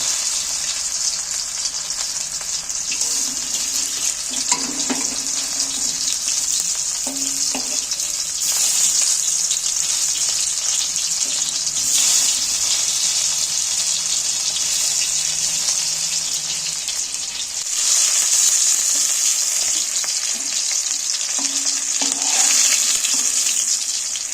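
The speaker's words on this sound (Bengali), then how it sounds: "মাছটাকে দাঁড় করে করে আস্তে আস্তে করে ভাজতে হবে" Pieces of rohu fish fry slowly in hot oil, stood on edge in the pan, giving a loud, continuous sizzle throughout with occasional light stirring and scraping.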